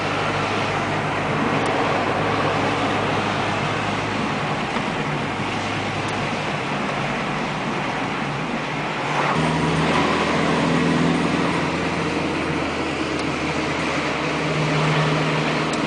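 A 1981 Honda Accord cruising in fifth gear at about 70 mph, just under 3,000 rpm, on a main road: a steady engine drone with broad road and wind noise. The pitch shifts slightly partway through.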